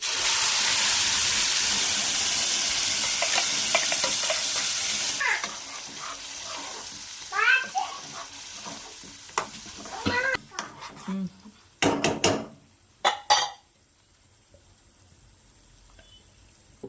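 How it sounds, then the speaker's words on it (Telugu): Oil sizzles steadily as ground red chilli and tomato chutney fries in a pan, then stirring scrapes and a few sharp metal clinks break through, with a voice talking briefly. "బాగా వేగిన తర్వాత నూనె పైకి తేలేంత వరకు"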